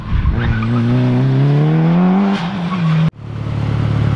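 A race car drives fast around the BIR proving grounds track, its engine revving loud and close with rising pitch, then cutting off abruptly before a fainter rumble continues.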